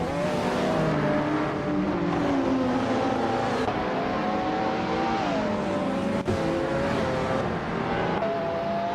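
Video game race at Albi Vintage with 1989 Ferrari F40 racing cars, engines whining and revving continuously, pitch rising and dipping through gear changes, a steady loud mechanical drone with no voices.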